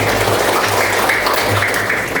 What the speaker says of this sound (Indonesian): Tepuk tangan dong buat kalian semua.